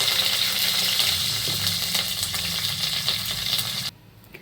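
Mustard seeds and curry leaves sizzling hard in hot oil for tempering a sambar, a loud, steady crackling hiss that fills the moment and then cuts off abruptly near the end.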